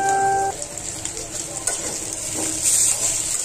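Hilsa fish heads frying in oil with onion and being stirred in a pan, a steady sizzle with scraping stir strokes, close and moderately loud after a brief beep.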